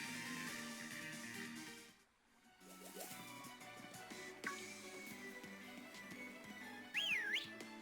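A character whistles in the video game Pokemon Shield, a brief swooping whistle rising and falling near the end, layered over steady in-game background music.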